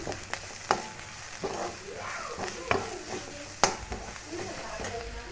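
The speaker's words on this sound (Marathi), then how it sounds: "थोडेसे हिंग अर्धा चमचा हळद ते व्यवस्थित हलवून घेऊन" Asafoetida and turmeric are stirred in hot oil for a spicy mashed brinjal dish, crackling sizzle close up with repeated utensil scrapes and knocks against the pan.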